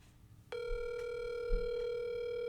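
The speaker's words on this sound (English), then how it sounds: "Let me make some phone calls." A telephone handset lets out a steady, loud tone that starts abruptly and holds without a break, with faint clicks beneath it, as a phone call is being placed.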